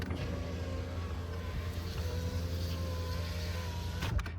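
A power window on a 2004 Chevy Trailblazer runs after a regulator replacement, giving a steady electric motor whir under a low idling-engine hum, ending with a brief clunk as the glass stops.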